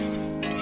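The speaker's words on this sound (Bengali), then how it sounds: "ভেজে রাখা আলুগুলো দিয়ে সুন্দর করে মিশিয়ে নেব এবং আরও কিছুক্ষণ মশলাটাকে আলুর সঙ্গে কষে নেব" Spice paste and fried potatoes being stir-fried in a pan for a rohu fish kalia, giving a steady close sizzle with a brief scraping stir near the end.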